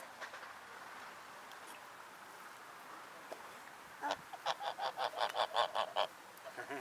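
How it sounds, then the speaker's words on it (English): Farm ducks or geese honk and quack in a rapid run of loud, close calls in the latter half, after a stretch of quiet outdoor background with faint distant calls, no talking. "And they quack, quack, quack."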